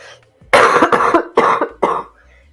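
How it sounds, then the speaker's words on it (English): Several harsh coughs in quick succession, close to the microphone, loud and raspy with short pauses between them. "I do have a cough."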